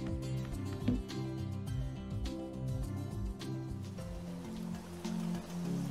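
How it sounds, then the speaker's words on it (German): Rain falls in the Monster Harvest farming video game, a steady wash of drops on surfaces with soft watery patter, layered under continuous background music. "Regnet es schon wieder?"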